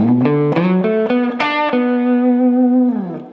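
A distorted electric guitar plays a short bluesy lick: quick bends and picked notes, then one long sustained note with vibrato, loud and close.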